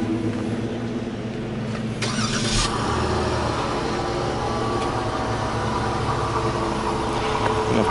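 Jeep Grand Cherokee Limited 4x4 engine starting by remote start, a brief cranking burst followed by a steady, close idle hum with no voices.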